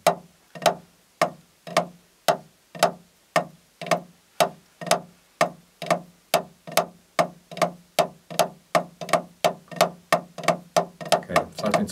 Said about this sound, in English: the double strokes become like swing, they become swung notes